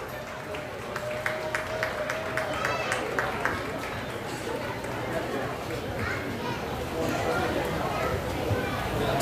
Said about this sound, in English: Let's give a big round of applause to everyone and the seniors.